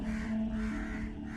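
A crow's harsh, drawn-out cawing, heard fairly close and on its own as a dramatic effect in a horror tale, lasting steadily through the moment.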